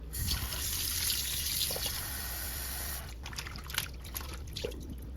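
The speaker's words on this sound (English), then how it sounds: "we're gonna add some water to rinse" Cold water pouring and trickling over raw beef in a kitchen to rinse it, a steady splashing stream that later breaks into scattered drips and splatters, close and moderately loud with no talking.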